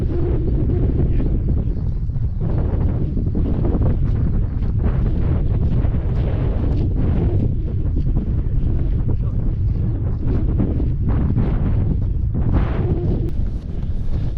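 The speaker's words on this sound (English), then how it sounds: "still windy, but dry at the moment" Strong wind roars and buffets the microphone without a break on open Dartmoor moorland near High Willhays and Yes Tor, loud and constant throughout.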